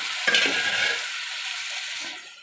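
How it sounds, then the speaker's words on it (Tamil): Chopped onions sauté with a little salt in a hot pan for a spicy fish curry: a steady, loud sizzle with a brief burst of stirring near the start, then softening toward the end, with no voices. "எப்பவுமே இந்த மாதிரி வந்து நம்ம வெங்காயம் எல்லாம் வதக்கும் போது கொஞ்சம் உப்பு போட்டு வதக்கணும்"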